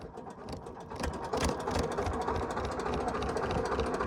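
A tractor engine runs with a steady, rhythmic mechanical chug and rattle, close and fairly loud, with no voices.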